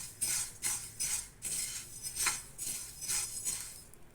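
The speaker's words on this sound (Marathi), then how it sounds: "हे जे तीळ आहेत हे आता आपण असे भाजून घेऊया पाच ते सात मिनटं" Sesame seeds being dry-roasted for tilgul ladoos, stirred in a pan with a metal spoon, giving repeated scraping clinks about twice a second in a steady rhythm, close and moderately loud.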